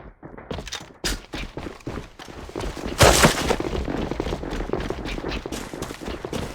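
Rapid gunfire fills a competitive Alliance of Valiant Arms tournament match: dense, overlapping shots and bursts crackle continuously, with a sharper, louder volley around the midpoint and no voices.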